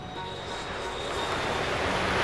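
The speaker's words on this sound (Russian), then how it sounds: "Самолет уже приземляется." A steady airplane engine roar fills the clip, a broad rushing drone that slowly grows louder, with no voices.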